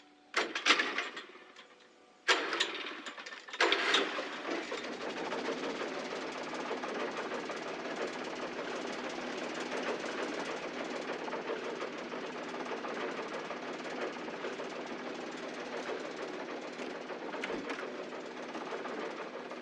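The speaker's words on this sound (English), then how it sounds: "An old generator had been connected to the power cable." Old generator in the video game Alan Wake sputtering into life after a few loud clunks, then settling into a steady, moderately loud mechanical drone that runs on alone.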